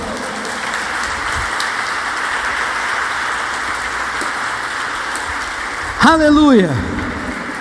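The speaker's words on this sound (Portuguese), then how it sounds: "Aplauda o Senhor então" A church congregation applauds the Lord during a Portuguese-language sermon, a steady wash of clapping throughout, with a voice calling out near the end.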